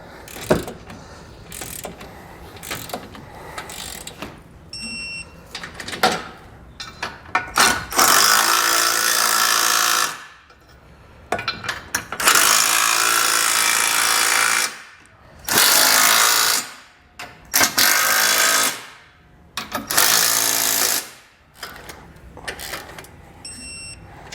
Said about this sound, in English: we're going to snug up our bolts on the bottom there and torque those to spec as well